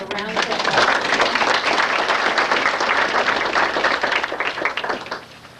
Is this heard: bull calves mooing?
no